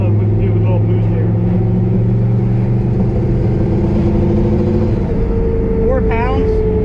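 A 1000 rear-wheel-horsepower drag car engine runs under light boost, a loud, steady, close mechanical drone throughout with a brief rising whine near the end, and no speech over it.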